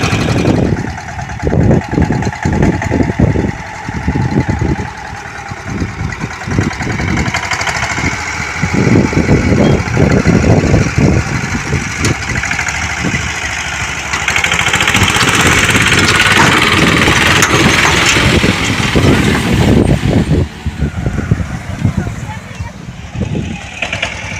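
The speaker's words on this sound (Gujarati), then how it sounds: "ટ્રેક્ટર કાઢવાનું છે આમ જો આ વરસાદને લીધે એટલો ખાડો પડી ગયો છે" A tractor engine chugs loudly and steadily while the tractor pulls out of a deep, rain-made pothole. The engine keeps a rough, throbbing rhythm throughout, with people talking over it.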